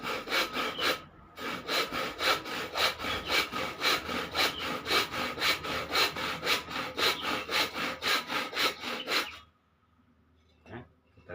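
A hand saw cuts through wood for a homemade corn kernel stripping tool, steady close back-and-forth strokes repeating for about nine seconds, then stopping into near silence with one faint knock.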